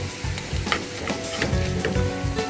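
Green chili stirred into hot dal that sizzles steadily, with a spoon scraping and stirring through the pan in repeated strokes, loud and close, no voices.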